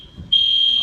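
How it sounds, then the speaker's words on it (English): University hall fire alarm tone, a steady high electronic beep that jumps louder a third of a second in and holds continuously, close and piercing. "They pulled a fire alarm."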